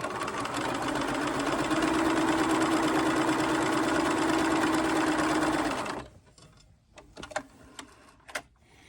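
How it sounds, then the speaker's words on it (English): Steady, close sewing machine whirring as quilt block corners are stitched, running continuously for about six seconds before stopping, followed by a few scattered clicks and light handling sounds. "we're now going to sew them into position"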